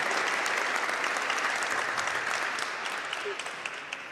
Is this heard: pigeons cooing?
no